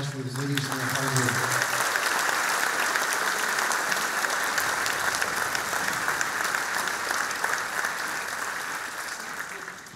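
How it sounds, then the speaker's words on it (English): Audience applause fills a school band spring concert hall, a steady dense wash of clapping that stays loud throughout and tapers slightly at the end, with a brief spoken voice at the very start. "let's have a round of applause for these ladies and their hard work"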